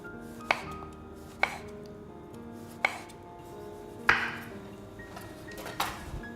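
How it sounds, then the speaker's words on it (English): A knife cuts through vine-ripened tomatoes on a board in a seafood cookery school kitchen, five or six sharp, separate knocks spaced about a second apart, close and clear over a quiet room tone. "I've got some really nice vine-ripened tomatoes, which I'm just going to slice"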